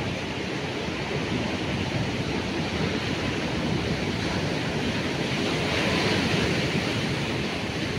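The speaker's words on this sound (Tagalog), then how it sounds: "Tapos yung alon" Rough ocean surf crashes continuously near a mountainous shore at Casiguran during high tide, a dense, loud wash of breaking waves mixed with wind noise and no voices.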